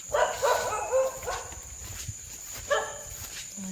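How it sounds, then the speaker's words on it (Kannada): A dog barks a few times in short bursts, moderately near, with a quiet background between barks. "ನಾಯಿ ಸಹ ಬೊಗಳ್ತದೆ"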